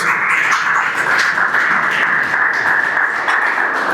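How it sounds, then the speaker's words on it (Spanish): Steady, dense applause from a church congregation at a Sunday service fills the whole stretch, a continuous wash of clapping with no break. "Dale un fuerte aplauso al Señor"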